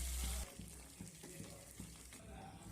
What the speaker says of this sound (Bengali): এখানে আমি জল দিয়ে দিয়েছি।